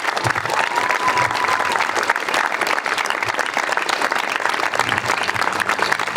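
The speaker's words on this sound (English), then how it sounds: "a round of applause" An outdoor rally crowd at a march claps in steady, loud applause lasting the whole stretch, a thick crackle of many hands with a few scattered voices.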